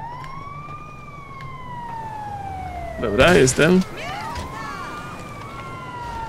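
A police car siren in GTA V Online wails in long, slow rising and falling sweeps under engine rumble, with a brief burst of louder game noise midway and someone speaking Polish.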